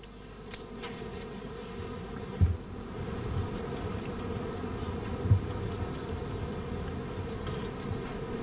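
Bees buzz continuously at close range in stormy weather, a low droning hum with a couple of soft thumps and knocks.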